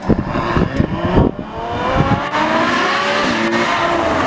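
A Ferrari F12 roars away in quick revving bursts with rising engine tones and a brief tyre squeal, loud and close with no speech.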